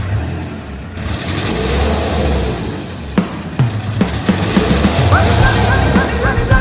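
A Mahindra Scorpio in GTA 5 cranks and starts with a loud engine rumble, then revs in sharp bursts over a steady idle, with no talk.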